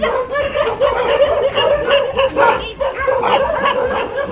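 Several dogs bark and yip continuously and close by, overlapping in a noisy, agitated chorus.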